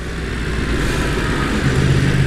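A 2017 Yamaha R1 (YZF-R1) crossplane engine revs close by with a loud, steady, rough-edged growl that rises slightly toward the end, alone without voices.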